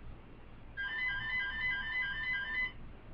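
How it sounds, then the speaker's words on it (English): A mobile phone ringtone plays as a short, bright, repeating electronic melody lasting about two seconds over quiet room noise, then cuts off. "I apologize for that phone."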